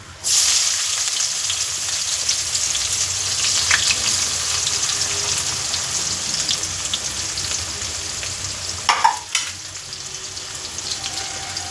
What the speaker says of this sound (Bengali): তো পেঁয়াজটা আমার ভাজা হতে থাক